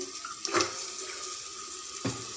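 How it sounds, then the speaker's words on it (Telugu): Water is poured into a plate while cooking dondakaya curry, two short splashing pours against a steady kitchen hum. "ఒక ప్లేట్లో వాటర్ పోసుకొని"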